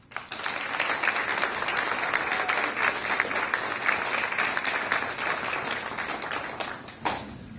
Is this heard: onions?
no